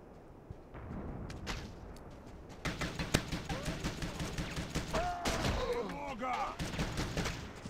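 A silenced pistol and other guns fire in the IronStorm video game, with rapid volleys of sharp shots repeating across the span and a voice briefly heard partway through.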